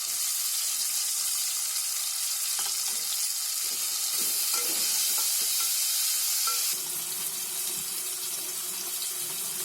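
Ginger-garlic paste and tomato sizzle in a hot pan, a steady frying hiss running throughout with occasional stirring scrapes and small clinks, close and fairly loud, shifting slightly in tone partway through.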